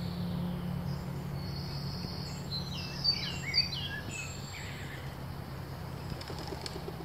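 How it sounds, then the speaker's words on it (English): Pigeon cooing faintly at a distance in a rural woodland bushcraft camp, a few soft coos mixed with other birdsong and a steady hum of insects. "Pigeon."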